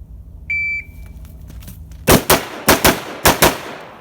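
Rifle shots fired in quick pairs at targets during defensive recoil-control practice, with three loud, sharp double cracks at close range following a brief electronic beep and a quiet pause.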